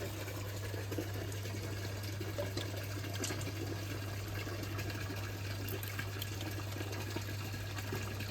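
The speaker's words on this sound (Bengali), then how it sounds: "আমি জল ভরে নিচ্ছি" Water runs steadily into a container in a home kitchen, a continuous faint splashing flow with a low steady hum beneath it, no pauses.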